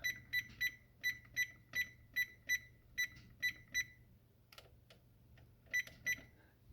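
An oven timer being set gives a series of about a dozen sharp, evenly spaced electronic beeps, a pause with faint clicks, then two more beeps, close and clear over a quiet low hum.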